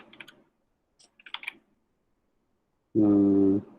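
Code being typed on a computer keyboard: a few short bursts of close key clicks separated by silence, then a loud, steady tonal beep near the end.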